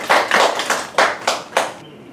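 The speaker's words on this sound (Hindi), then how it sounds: "आइए हम स्तुति आराधना के लिए जाते हैं और परमेश्वर का तालियों से स्वागत करते हैं।" Congregation clapping together at a worship service, a series of loud broadband bursts of many hands in a loose rhythm, about six claps over two seconds, then stopping abruptly.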